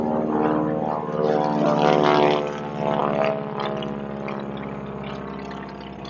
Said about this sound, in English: That is a biplane that just flew over us, which is very cool.